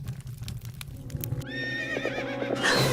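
A phantom horse neighs in the Nancy Drew game Secret of Shadow Ranch, with a loud close whinny rising in clear harmonic sweeps after a stretch of low rumbling ambience and hoof-like knocks.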